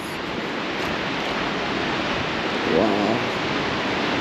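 A waterfall roars as a dense, steady rush of noise filling the whole clip, close and loud, with a brief exclamation from a person near the end.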